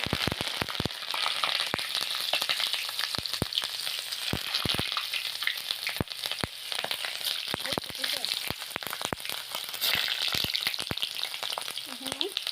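Cut chillies frying in hot oil for Assamese lemon pickle, a steady dense sizzle with crackling pops throughout, close and continuous with no talk.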